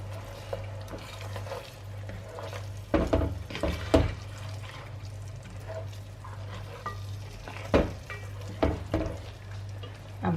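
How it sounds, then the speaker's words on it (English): Lamb curry (naan gosht) being stirred in a pot, with a steady low simmering hum under scattered spoon scrapes and clatters that bunch into louder bursts around the third and eighth seconds. "we're just going to give that a stir again"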